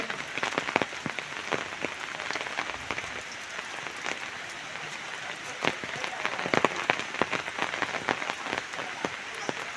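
Heavy monsoon rain pours down as a dense, hissing wash, with sharp irregular spatters of drops striking surfaces all through, steady and fairly close.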